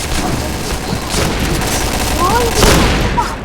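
Shotgun blasts in a first-person shooter clan war, dense overlapping gunfire and booms filling the clip with a sharper burst near the end, under faint distant voices.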